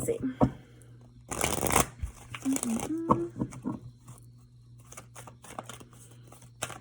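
Tarot cards being shuffled by hand, a burst of dense riffling rustle near the microphone, followed by lighter scattered card flicks and soft handling noises with brief vocal sounds in between.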